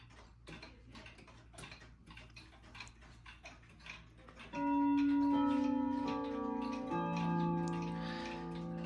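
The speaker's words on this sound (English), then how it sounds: "now I will demonstrate the chimes." A Ridgeway Breton grandfather clock ticks steadily up close, then its chimes ring out loud and sustained, with overlapping tones that linger and slowly fade.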